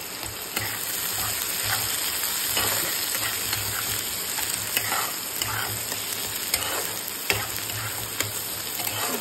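Vegetables fry in a pan with garlic and ginger, a continuous close sizzle with scattered crackles and occasional stirring clicks, no talk.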